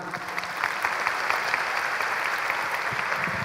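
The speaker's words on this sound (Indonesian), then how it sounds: "Ya, tepuk tangan." A seated audience at a public forum breaks into steady, even applause that fills the whole moment, a dense wash of clapping hands with no pauses.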